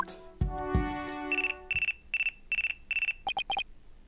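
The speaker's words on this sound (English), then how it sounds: "Looks like I have a phone call." Phone ringing in the game Ace Attorney: Dual Destinies, a series of rapid electronic trill bursts in a steady rhythm following some musical chimes, loud and close with no talk.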